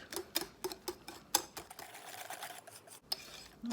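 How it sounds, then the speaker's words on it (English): A whisk clicks and taps against a bowl while mixing sweet and sour sauce, a series of light irregular metallic ticks with a soft stirring scrape between them, close and fairly quiet. "Sometimes I like to use my whisk, really get everything combined."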